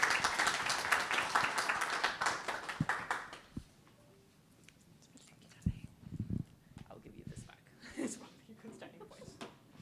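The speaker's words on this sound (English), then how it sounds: "can I get a huge round of applause for Leah Garrett?" An audience at a hybrid evening tech event claps for a speaker, a close burst of rapid applause for about three seconds that then fades into quiet room noise and a few faint voices.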